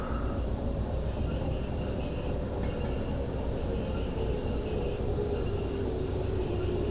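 A locomotive in the Derail Valley train game rolls to a stop, a steady dense rumble of wheels on rail with faint squealing throughout, close and continuous.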